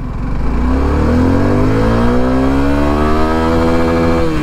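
A Suzuki V-Strom SX250 motorcycle accelerates hard in first gear, its engine note climbing steadily in pitch as revs build, loud and close throughout.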